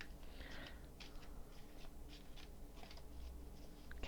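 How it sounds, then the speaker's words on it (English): Tarot cards are shuffled by hand in soft, quiet bursts of papery riffling and rustling that repeat every half second or so against a faint background hum. "Let's shuffle just a little bit more."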